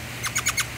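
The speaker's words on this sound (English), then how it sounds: "we've got us some parrots and birds" Birds from a parrot collection at an outdoor hotel pathway give four quick, bright calls spaced about a tenth of a second apart, close by and fairly quiet.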